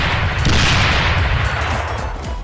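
Gunfire in CrossFire Legend zombie mode, a dense rolling barrage of shots and booms that stays loud and continuous for the whole stretch, with no talking over it.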